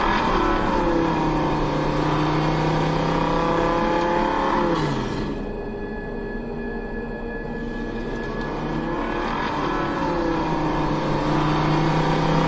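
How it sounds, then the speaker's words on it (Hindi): A car races at full speed through a tunnel in an Android horror video game, its engine droning loud and steady with pitch shifts and a brief dip midway, game sound only with no voices. "आदि फुल स्पीड में गाड़ी को दौड़ा देता है टनल के अंदर"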